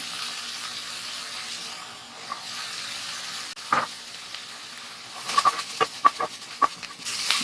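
Egg manchurian with capsicum fries over a high flame, a soft steady sizzle broken near the end by a quick series of sharp spatula knocks and scrapes against the pan.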